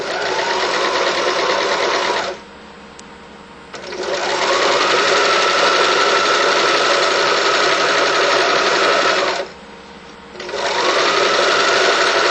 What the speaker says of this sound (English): stitch right along that loose end, that loose fold of the fabric.